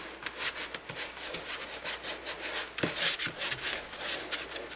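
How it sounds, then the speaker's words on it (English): Paint-covered hands rubbing together to wipe off excess paint, giving a continuous close, scratchy rustle in quick repeated strokes. "as I'm going through, I'm wiping excess paint off my hands"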